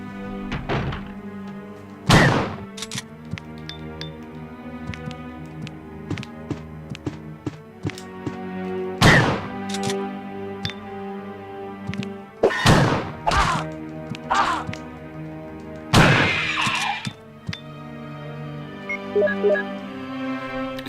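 Combat against hunters in Resident Evil Director's Cut, playing as Chris: repeated heavy thunks and whacks of attacks and hits land every few seconds over a steady game music drone, with no talking.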